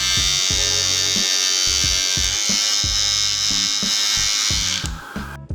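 Trim Buddy electric hair trimmer running, a steady high buzzing hum close up with a series of rhythmic clicks or taps across it, then a short sputter as it stops.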